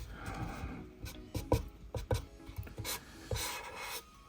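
Soft, scratchy strokes from a Copic marker's chisel nib rubbing across paper, coming in quick irregular swipes with brief pauses between, close and fairly quiet.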